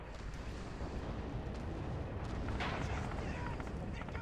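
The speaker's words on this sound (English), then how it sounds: "Oh, artillery." Artillery fire in the Red Orchestra video game: a dense, rumbling wall of distant booms and blasts that rolls on steadily throughout, loud and unbroken.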